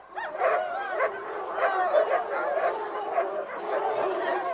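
Several dogs bark and yip without pause, their voices overlapping into a steady, excited chorus at moderate distance.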